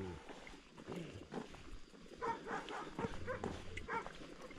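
A dog barking outdoors during a cycling encounter, a few scattered barks mixed with wind and road noise at moderate distance, no talking.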